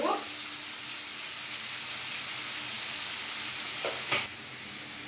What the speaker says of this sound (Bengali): আর ওই তেলের মধ্যে একটু হলুদ দিয়ে দেবো